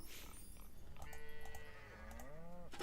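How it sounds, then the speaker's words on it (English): A goat in the farming game Coral Island gives a few wavering bleats close up, each wobbling in pitch, over a soft game background hum. "If you're wondering why we have a goat called Louisa"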